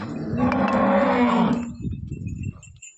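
A pure HF dairy cow moos once, loud and close, a long low tonal call lasting about a second and a half, then fading into softer breathy rumbling.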